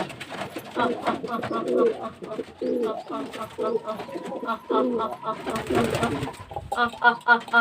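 Pigeons coo repeatedly in rhythmic bursts on a pigeon farm during hot weather, loud and close, with a voice talking over and between the calls.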